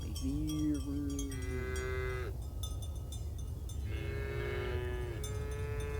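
Several cows moo in the farming video game Farm Together 2, long drawn-out bellowing calls one after another over steady background ambience with no talking.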